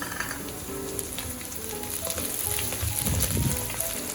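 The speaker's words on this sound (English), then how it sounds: "now I'm adding in curry leaves" Two to three sprigs of curry leaves sizzle in hot oil for spicy Chettinad-style chicken, a dense close crackling hiss with occasional stirring scrapes that grows slightly busier toward the end.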